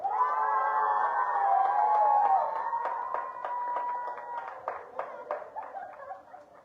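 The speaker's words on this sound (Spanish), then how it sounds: "Un fuerte aplauso al pastor Abimael Mendoza Estrada." A church audience applauds a pastor with scattered, moderately loud hand claps that follow a sustained voiced sound and then taper off.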